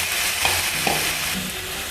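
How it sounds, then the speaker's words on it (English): Chicken frying in a pan as tomato puree is stirred in, a continuous close sizzle broken by a few soft scrapes and knocks of the spoon, with no voices. "Mix it all very well."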